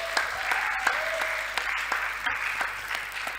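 A church congregation applauds with dense, sustained clapping that holds steady throughout, loud and close, with scattered sharper claps standing out from the crowd.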